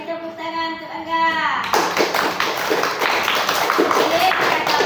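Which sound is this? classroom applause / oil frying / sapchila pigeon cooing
classroom applause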